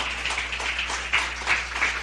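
A church congregation claps for the Lord at an evening service, giving a steady wash of applause with a few louder swells over a low hum.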